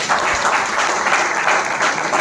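An audience claps together at a business success talk, producing dense, steady applause that carries through the whole short stretch with no speech over it.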